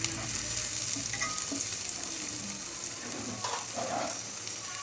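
Garlic paste hits hot oil over onions browned in a tempering, giving a steady, close sizzle and frying hiss with occasional stirring scrapes throughout.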